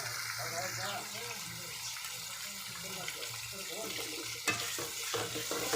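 Plenty of curry leaves and green chillies sauté in hot oil with onions, a soft continuous sizzle and occasional stirring scrapes under quiet background noise.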